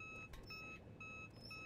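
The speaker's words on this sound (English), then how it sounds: "Fuck that alarm." A phone alarm beeps in a steady repeating pattern of short high tones, faint under low rumbling background noise.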